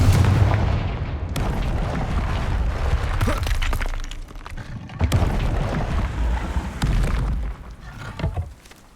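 Confringo fire spell blasts from Hogwarts Legacy, loud booming impacts with shattering debris, several sharp hits spread across the stretch amid rumbling, no voices.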